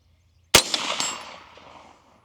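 A single sharp crack from a .22 Magnum rifle fitted with a Vector Optics Constantine 1-10x24 scope, fired outdoors, followed by a short ringing decay, with no talk around it.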